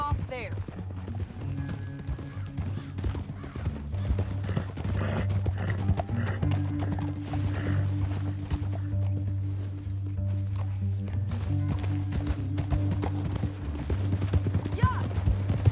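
Horse hooves clip-clop in Red Dead Redemption 2, a steady rhythmic clatter under ongoing talk and a droning musical score, with a faint whinny.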